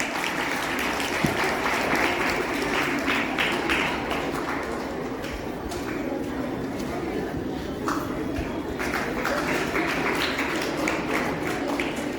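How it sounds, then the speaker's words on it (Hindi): Children at a school farewell event clap continuously in a steady, dense round of applause that holds for many seconds, with voices faintly mixed in beneath the clapping. "बच्चों जो ताली बजती रहे लगातार।"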